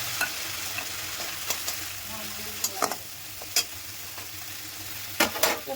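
Spice paste and grated coconut fry in a hot pan with dried chillies, five-spice and asafoetida, giving a continuous close sizzle marked by repeated sharp spatula scrapes and clinks at irregular intervals, with no voices.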